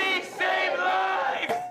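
Crowd of protesters at a rally outside a supervised drug consumption site, voices chanting together in a loud, sustained unison call, briefly breaking before resuming.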